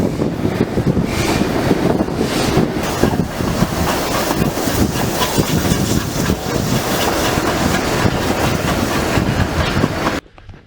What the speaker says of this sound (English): We're going on a steam train.